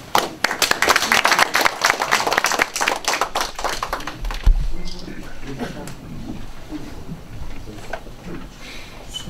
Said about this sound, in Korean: 많은 박수 부탁드립니다.